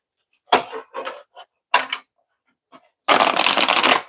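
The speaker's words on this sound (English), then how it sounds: "Okay, shuffle again." An oracle card deck is shuffled by hand in several short, crisp bursts of riffling with brief pauses between, ending in a longer, denser flurry of cards, close and clear with no talk.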